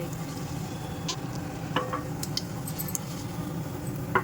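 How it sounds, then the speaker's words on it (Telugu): Fenugreek seeds fry in hot oil as a tempering for amaranth-leaf buttermilk curry, giving a soft, steady sizzle with a few faint crackles and pops near the pan. "చూడండి చక్కగా వేగుతుంది కదా"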